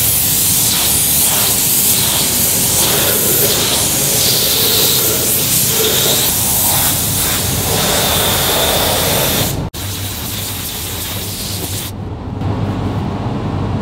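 Air spray gun laying KBS rust-preventive coating with a 1.8 tip onto the prepped body of a 1973 Holden HQ GTS, a loud continuous hiss of atomised spray close up, cut briefly near the end between passes.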